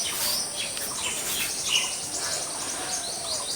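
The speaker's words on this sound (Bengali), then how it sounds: "পাখির কিচিরমিচির শব্দ" Birds chirp in the morning. Overlapping high chirps and tweets sound at a moderate distance over a constant insect-like drone, with no voices.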